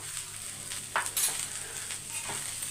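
Okra roasting in a pan over a low flame gives a soft, continuous sizzle, with a few light scrapes and clinks of a utensil against the pan, close by.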